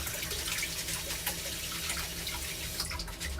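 Steady tap water runs over grain being rinsed in a kitchen sink, a continuous close splashing rush with faint drips and no talking.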